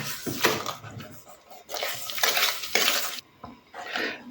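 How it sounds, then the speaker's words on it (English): A spoon scrapes and clinks against a bowl while ricotta cheesecake batter with cream is stirred together, in close, uneven bursts of mixing with short pauses. "Mix your ingredients together once again."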